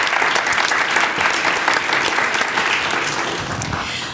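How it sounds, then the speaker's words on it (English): A crowd claps at an oath of office ceremony, giving dense, steady applause for a few seconds that fades slightly toward the end. "Let's give a huge applause for all of our former mayors."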